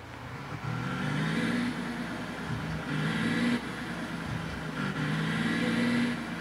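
A bus engine hums steadily at mid-volume while driving, with the revs rising and falling in repeated cycles as it accelerates and shifts, and the air conditioner on.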